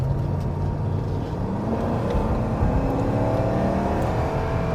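A Mercedes saloon with a Porsche engine accelerates hard through a corner, its engine note rising steadily and loud, close by, with road and tyre noise beneath and no talk.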